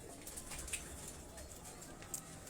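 Red-eyed Teddy pigeons coo faintly in a loft, a few soft coos rising from a quiet, even background.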